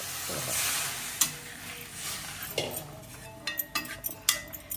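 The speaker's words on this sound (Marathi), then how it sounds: "आता हे दुधाच्या भांड्यातलं पाणी" Water poured from a milk pot into a sambar tempering of salt, chilli powder and cumin, giving a loud broad sizzle that fades, followed by stirring and sharp metallic clinks of a spoon against the pot.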